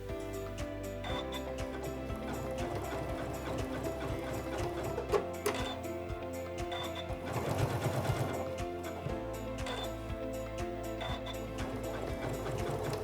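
A sewing machine quilting with auto pivot, its needle stitching in fast rhythmic bursts with brief pauses as the presser foot lifts and the fabric turns, close and moderately quiet.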